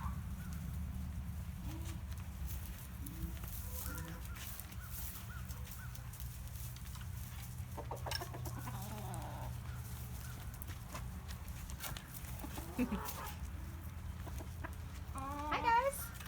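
Chickens and turkeys roam a farmyard habitat, soft clucks and scattered bird calls sitting low over a steady background hum, with a few brief louder squawks near the end.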